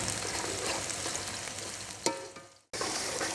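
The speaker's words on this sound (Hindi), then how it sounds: "कढ़ाई में हमने तेल डाला है और जैसे ही गर्म होगा तो हम इसमें डाल देंगे प्याज" Onions frying in hot oil in a wok for daal chawal: a steady, close, bright sizzle, with a sharp spit partway through and a momentary drop before the hiss resumes.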